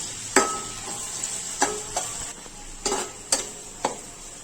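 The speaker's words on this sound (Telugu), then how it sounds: "ఇప్పుడు దీనిలో 3-4 పచ్చిమిర్చి చీరికలు, 1 కప్పు సన్నగా తరిగిన ఉల్లిపాయలు, కొద్దిగా కరివేపాకు కూడా వేసుకొని వేయించుకుందాము." Green chillies, sliced onions and curry leaves frying in a pan for mutton dum biryani, a constant close sizzle broken by several sharp scraping stirs of a spoon against the metal.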